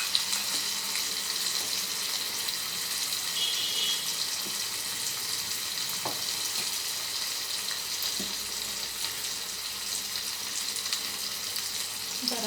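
Chicken keema with chilli and turmeric powder frying in a pan, a steady bright sizzle running throughout with a few faint stirring clicks.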